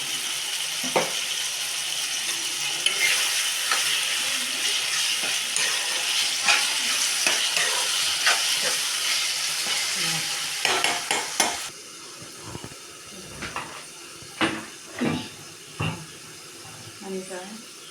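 Cumin and tamarind fry in a pan while being stirred, giving a continuous sizzle with repeated scraping strokes, which thin out into sparse clinks and stirs near the end.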